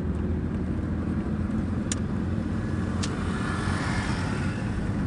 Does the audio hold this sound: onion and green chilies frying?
no